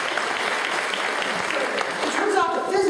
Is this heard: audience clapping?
yes